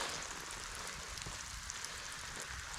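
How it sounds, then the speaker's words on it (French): Steady rain pattering on a surface beside a river, a soft even hiss with scattered drops, fairly quiet and with no voices. "c'est de la pluie là maintenant"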